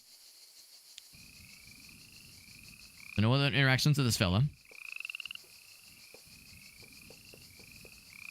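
Frogs croak around a pond in the video game Midnight Special, a faint repeating chorus joined by one loud, warbling burst of close croaks, with someone talking briefly over it.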